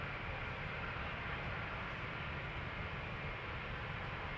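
A Ryanair jet departing Amsterdam Schiphol for Dublin gives off a steady, broad engine roar that holds constant and fairly loud throughout, with no voices.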